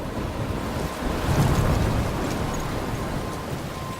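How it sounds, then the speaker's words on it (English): Storm ambience from the video game Life Is Strange: a continuous roar of wind and crashing surf that swells briefly in the middle and then eases back to a steady, broad rush, with no voices. "I'm trapped in a storm."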